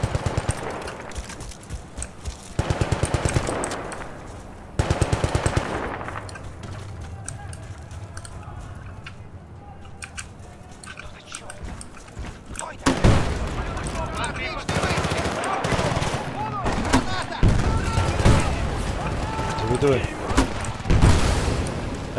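Bursts of rapid gunfire in Battlefield 2, some long automatic strings and scattered shots, with a person talking excitedly over parts of it.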